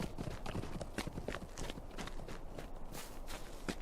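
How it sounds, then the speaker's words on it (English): Horse hooves trample grass in Lord of the Rings Online, out in the Shire north of Hobbiton, giving a steady run of soft, close clip-clop footfalls that keep going throughout. "Somebody riding around for a horse, just trampling the grass"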